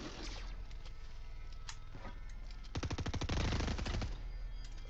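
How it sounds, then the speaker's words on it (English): Rapid bursts of automatic gunfire from a gun in the video game Fortnite, a dense rattling volley swelling loud and close midway through over constant game background noise. "I'm just going to keep shooting him."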